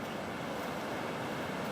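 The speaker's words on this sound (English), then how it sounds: "the creek, you can hear it running through the valley down there, the river" Distant river running through the valley below Belmore Falls in the Southern Highlands, a steady broadband rush of flowing water heard from a lookout, faint and continuous without voices.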